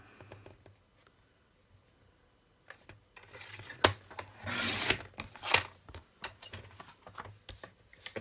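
Cardboard book-binding strips being cut for a cover: after a quiet start, a cluster of close, dry scraping and rasping cutting strokes with a few sharp ticks, then scattered lighter scrapes.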